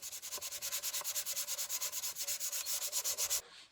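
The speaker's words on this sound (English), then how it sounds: "now it's on to 400 grit sandpaper" Rhythmic back-and-forth rubbing of 400 grit sandpaper over filler primer on a model FAB 1 pink Rolls Royce body, about twenty quick, steady strokes close up, then stopping abruptly.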